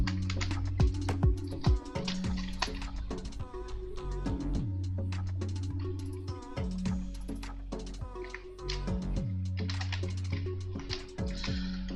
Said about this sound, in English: Pressing the wrong keys there by accident.